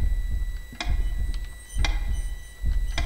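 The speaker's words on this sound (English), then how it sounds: "Something's clicking. That's this clock, huh?" Clock ticking in the horror video game Maere: When Lights Die, a regular series of sharp clicks over a low ambient hum, moderately close and with no talking.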